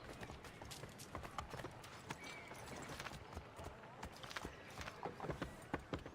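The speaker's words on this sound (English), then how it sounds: "I'm just gonna have to get back on horseback here then." Horse hooves clop and pound during riding in the video game Assassin's Creed 3, a steady rapid run of faint hoofbeats under low background game noise.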